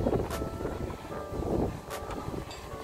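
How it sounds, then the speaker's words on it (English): Strong wind gusts buffet a DJI Mini 2 drone in flight: a steady roaring wash of air that surges and swells, with a couple of sharp bursts, and no voices. "the wind's not bad, but we keep getting some fairly strong gusts."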